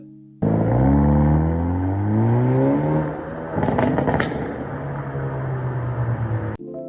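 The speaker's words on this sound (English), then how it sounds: "The sounds this thing makes, all the burbles, all the pops on a factory like exhaust" A Hyundai car with a 2-liter turbo engine and factory exhaust revs up through rising pitch sweeps, then lets off with crackling burbles and pops before settling into a steady drone.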